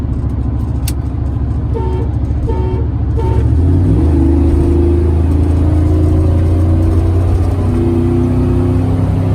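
A truck engine revs and accelerates loudly on a highway during a 40 mph roll race, pitch climbing steadily as it pulls away, with road noise and wind rushing throughout.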